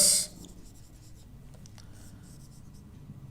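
Writing on a board during a maths lecture gives a soft, steady scratching that runs for a few seconds after a brief loud burst at the start, faint and with no talk over it.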